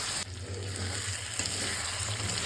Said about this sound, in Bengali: জল দিয়ে আমি একটু সুন্দর করে মশলাটা কষাবো যতক্ষণ না এর থেকে তেল ছাড়বে।